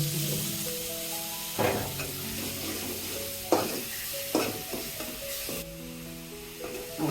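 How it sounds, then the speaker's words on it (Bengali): Ground spices, chili, turmeric, salt and Kashmiri chili powder with a splash of water, sizzle steadily in a pan while a spoon stirs them in periodic scraping bursts, close and alone. "মশলা কষা হয়ে গেছে"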